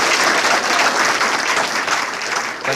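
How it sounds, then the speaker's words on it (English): Loud, dense applause from an audience honouring Tour de France winner Bradley Wiggins, sustained clapping that fills the room before tapering slightly at the end. "Can we have another round of applause"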